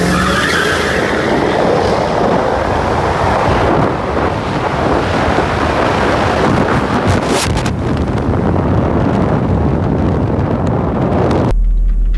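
Jaguar F-Type R and a Dodge Hellcat launching in a drag race from a dig, tires spinning hard with loud roaring engines and wind buffeting the microphone, sustained for about eleven seconds before cutting off abruptly.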